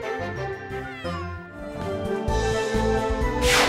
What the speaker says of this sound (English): Look how happy the kitten is.